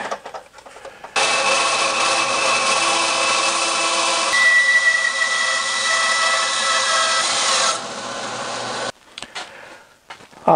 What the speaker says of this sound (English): It'll work with this bandsaw blade.